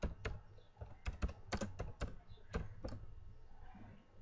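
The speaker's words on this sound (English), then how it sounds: "Okay, I am typing this." Typing on a computer keyboard at a Windows PC, with a run of crisp, separate key clicks in an uneven rhythm, close and fairly quiet, and no talking.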